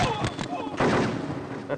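A gunshot in a Hindi-dubbed Kannada action film, a sharp report with a brief burst of noise, set among dialogue as people talk before and after it.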